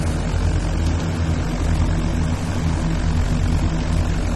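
Propeller aircraft engines idle steadily while taxiing at Cambridge airfield in a flight simulator, a continuous droning hum with a low rhythmic throb, close and loud throughout with no talking.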